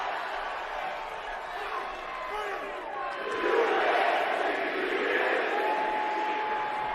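A wrestling arena crowd at a WWE tag team championship match roars and chants steadily, swelling louder midway, a dense distant mass of voices with no clear speech on top.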